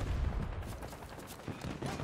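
Gunfire from a gun in Battlefield 2042 comes as a dense, continuous rattle of shots with heavy low-end rumble, loud and close throughout.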